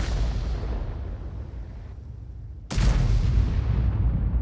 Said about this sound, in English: that was a derp shell from one of our teammates